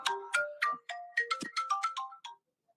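A phone ringtone for an incoming call plays a quick, bright melodic sequence of a dozen or so close notes, fairly faint and alone, then stops.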